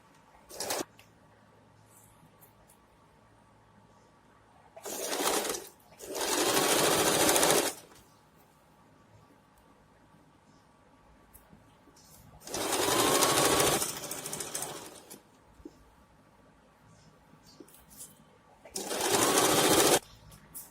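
Domestic sewing machine stitching a trouser leg seam, running in several separate bursts of a few seconds each with quiet pauses between, fairly close and clear, with no talking over it.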